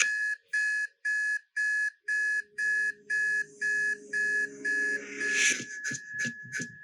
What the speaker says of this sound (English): the alarm keeps going.